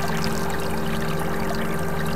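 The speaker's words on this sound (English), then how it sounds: "The jar is filled with tap water." Tap water pouring from a kitchen faucet into a glass jar in the Maniac Mansion Deluxe video game, a short steady rushing stream heard alone under a constant tonal hum.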